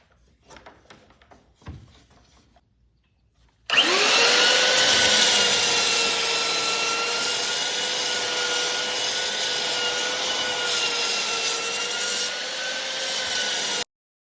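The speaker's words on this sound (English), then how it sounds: "Bernie the belt sander" A belt sander works wood planking stock for a Somes Sound sailboat build. After a few quiet handling knocks, the motor starts abruptly with a loud, steady whine and abrasive hum that runs nearly ten seconds.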